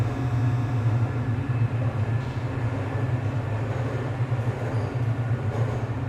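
Automated transit train from the Half-Life game's Black Mesa Research Facility rolling along steadily, a continuous low rumble and hum, loud and unbroken throughout with no voices.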